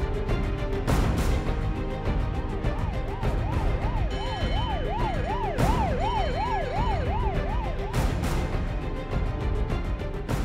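An ambulance siren wails in repeated rising and falling sweeps, loud and continuous over a low rumble of road traffic, with a few sharp knocks along the way.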